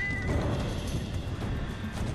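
Horse neighing in the Badiya desert survival video game, a whinny over steady galloping hooves and dense game background noise, continuous and fairly loud for about two seconds.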